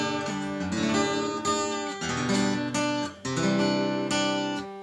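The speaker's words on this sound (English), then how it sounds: "if I can bend the strings to make them sound kind of nasty" Detuned acoustic guitar chords with strings bent out of tune, strummed repeatedly in sour, wavering clusters, close and alone with brief gaps between strums.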